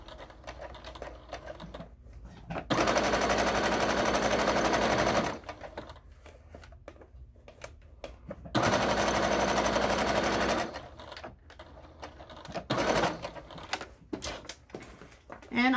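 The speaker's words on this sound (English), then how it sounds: "And we're going to sew straight across this way." A sewing machine stitching a straight seam with back stitching, two loud sustained buzzing runs of rapid needle strokes separated by quieter handling of fabric and clicks, close by, with a voice talking between bursts.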